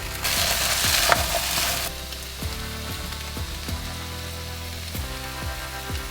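Potatoes frying in a pan at a campsite, starting with a loud, broad sizzle that drops after about two seconds. A series of sharp scraping and tapping stir strokes follows, spaced irregularly over the steady crackle.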